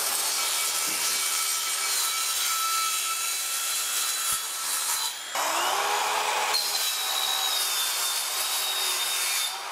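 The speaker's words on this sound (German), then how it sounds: "Und das werden wir jetzt mit dem Aluminiumblatt mal sägen." An 18V cordless circular saw fitted with an aluminium blade cuts through solid 4 mm aluminium plate, making a high, harsh, continuous whine and grinding screech that shifts in pitch as the cut goes on, with no talk.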